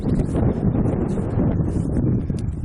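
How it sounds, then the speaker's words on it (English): Wind blows across a hilltop ridgeline above the Carquinez Strait Regional Shoreline in Martinez, California, a steady, loud, buffeting rush close to the microphone throughout. "I hope this is audible over the wind."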